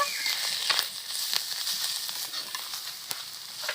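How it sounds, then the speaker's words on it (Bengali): Rohu fish curry frying in a pan as ground cumin, coriander, turmeric and chili powder are stirred in, giving a steady close sizzle with scattered crackles and faint scraping, no talking. "আবারও ভালো করে নেড়ে নেব।"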